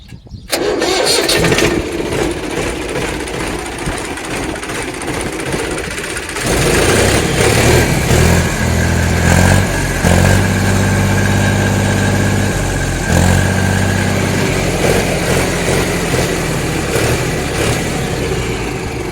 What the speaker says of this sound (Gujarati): engine powerful cell start